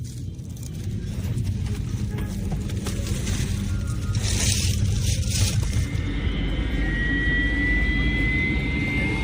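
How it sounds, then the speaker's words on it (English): Air Koryo airliner jet engines warming up on the ground before takeoff, a steady, loud broadband roar with low rumble and a rising whine entering partway through, heard from inside the cabin. "They are already starting to warm up the engines."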